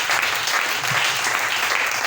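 A church congregation applauds together in a sustained, dense burst of clapping that stays steady and loud from start to finish, with no speech over it.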